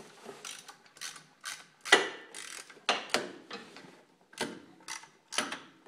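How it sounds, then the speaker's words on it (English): A ratchet cranks a belt removal tool on a RZR clutch, with about a dozen close, loud bursts of clicking strokes separated by short pauses. "Now we're going to grab our ratchet"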